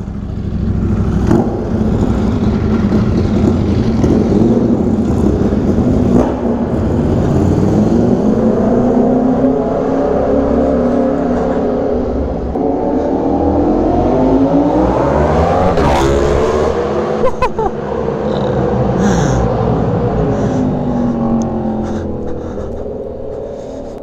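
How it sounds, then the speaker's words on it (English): A loud Ducati Panigale V4R motorcycle engine revs hard and repeatedly, its pitch rising and falling in long sweeps, close by and filling the whole stretch with no talking. "That's a loud bike."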